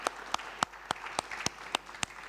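At a summer business forum's closing session, a small audience claps: about eight sharp, separate claps at an even, moderate pace, fairly faint, with a quiet room behind them.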